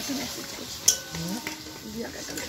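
Marinated meat gravy being sautéed down in a pan for biryani, with a soft sizzle and scraping stirs, one sharp clink of a utensil against the pan, close by.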